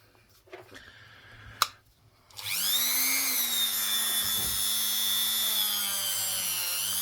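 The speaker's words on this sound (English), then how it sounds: "Dave the Dremel." A Dremel rotary tool spins up after a few small knocks and clicks, climbing to a loud, steady high-pitched whine that holds for several seconds, used on a ring made from a Sacagawea dollar coin.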